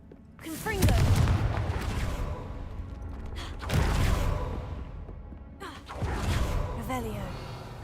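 Confringo fire spells cast in Hogwarts Legacy land as three heavy booming bursts, each fading into a rumble, with a voice calling out in between.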